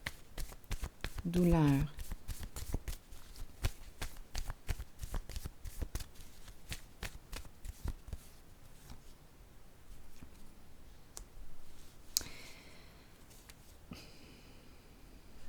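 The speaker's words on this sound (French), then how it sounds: "Je vais déposer une carte sur douleur" Cards are handled and placed down on a table during a tarot-style reading, giving a rapid run of crisp taps and shuffling clicks, then scattered soft card slaps, with a voice speaking briefly early on.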